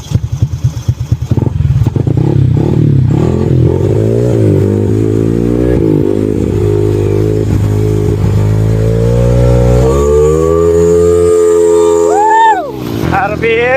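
A Yamaha Aerox scooter engine fitted with a Yuasa battery revs loud and close, its pitch climbing and holding through a long high whine, then dropping off sharply near the end.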